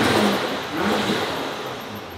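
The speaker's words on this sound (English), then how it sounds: "the children like blow off valve noises" A tuned full-bolt-on, E85 flex-fuel Nissan GT-R on a dyno, its engine revving steadily with blow-off valve hiss; a continuous loud mechanical roar with no talk.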